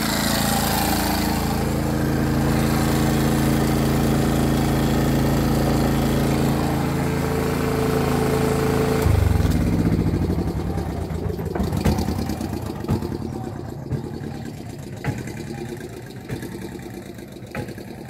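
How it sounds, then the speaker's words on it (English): A portable generator engine runs steadily and loudly at close range with a constant low drone, then cuts off partway through, leaving quieter background noise and a few clicks. "I'm going to turn my generator off."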